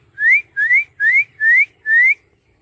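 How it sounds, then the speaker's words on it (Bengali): An Alexandrine parrot perched high in a forest tree gives five loud, rising whistled calls in a steady, evenly spaced series, with brief silences between them. "বসে আছে পাখিটা, আর ওখান থেকে ডাকছে বারবার, মিঠু।"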